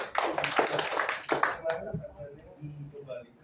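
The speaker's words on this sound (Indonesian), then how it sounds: "Tepuk tangan buat semuanya." A group gives a round of applause for everyone, a short burst of clapping with strong hand strikes that fades after under two seconds, followed by quieter room sounds.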